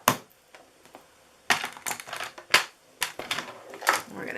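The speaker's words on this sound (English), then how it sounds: "I'm going to bring up my trimmer and we're going to trim this piece." A paper trimmer cuts a piece of card, giving a few sharp, crisp slicing and clicking bursts close up, separated by short quiet gaps.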